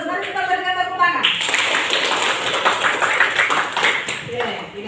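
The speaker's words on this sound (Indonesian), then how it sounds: "Mari kita berikan tepuk tangan." Students applauding in a classroom, a dense burst of clapping that starts after brief talk and continues steadily to the end, with a voice heard at the start.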